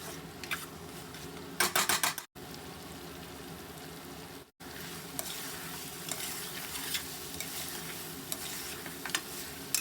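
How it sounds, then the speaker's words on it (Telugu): Masala sizzles and fries in oil in a pan for a goat head curry while a spoon scrapes and stirs it, heard close and loud as continuous crackling with two brief dropouts, and nobody speaking. "ఇదంతా కూడా బాగా ఫ్రై అయ్యింది"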